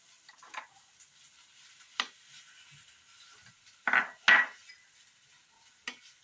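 A spoon stirs ground tomato into a mixture in a cooking pot while a Kerala dish is being made: sparse, quiet clinks and scrapes against the pot at an irregular, unhurried pace, with no talking.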